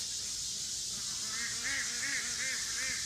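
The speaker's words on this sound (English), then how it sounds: "the ducks are being really noisy in the background" Ducks quack in a noisy, repeated series of nasal calls, fairly close, over a steady hiss of background noise.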